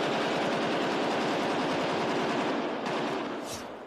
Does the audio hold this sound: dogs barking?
no